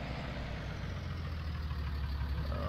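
A John Deere tractor engine in Farming Simulator 19 idles with a steady, low, rumbling drone that holds constant and close throughout, with no talk.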